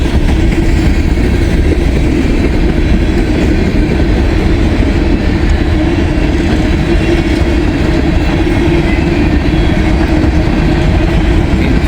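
A freight train with a DPU locomotive passing close by, loud steady rolling rumble with wheel clatter and engine drone sustained throughout.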